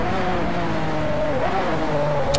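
A Lamborghini Aventador LP720-4 in the racing game Driveclub holds a steady, loud engine drone with layered harmonic whine, the pitch shifting slightly mid-way as if changing revs.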